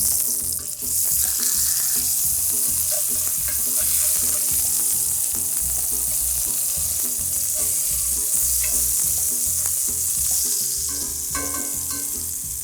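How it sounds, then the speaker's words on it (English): Vegan burger patties sear in a hot pan with a loud, continuous sizzle and spitting oil. Occasional clicks of a utensil shifting them sound up close, and no one speaks. "So I'm just looking at searing off the outside of these really quickly."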